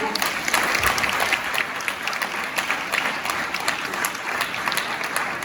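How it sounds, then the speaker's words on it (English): Audience applause at a community meeting for security volunteers: steady, dense clapping from a crowd filling the room, even and sustained without a break. "Please give them a round of applause."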